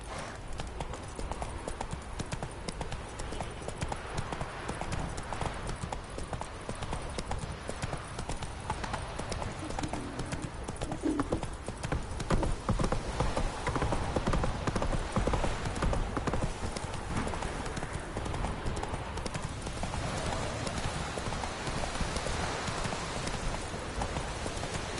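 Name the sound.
horse Roach galloping in video game The Witcher 3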